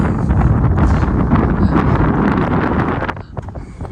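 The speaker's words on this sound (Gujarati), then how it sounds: "વાવ જોરદાર વાયરો હો ભાઈ, મજા આવે હો" Strong wind buffets the microphone outdoors in an open area beside a parked car, a loud, continuous rumbling roar that eases briefly near the end, with no voices.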